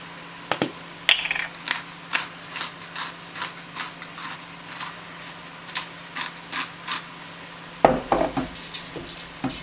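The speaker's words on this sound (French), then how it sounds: "on mélange un petit coup" Orzo and chicken stirred in a pot, steady rhythmic scraping and clinking of a spoon against the metal, close and continuous with a louder clatter near the end.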